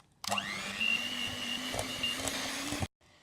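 An electric hand mixer beats thick lemon pound cake batter in a bowl, a steady whirring motor hum that starts abruptly, runs for a few seconds at close range, then cuts off.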